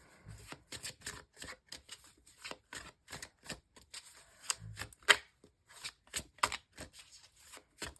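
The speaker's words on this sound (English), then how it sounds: "I think we are shuffled up enough." Tarot cards being shuffled by hand, a quick run of crisp papery riffles and taps in an uneven rhythm, close and fairly quiet with no talking.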